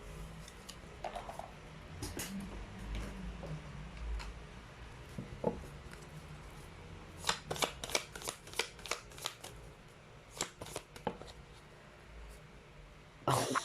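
Chinese fortune cards being shuffled during a card reading, with soft rustling early on, then a run of quick riffling snaps and flutters in the middle and again near the end, close but faint.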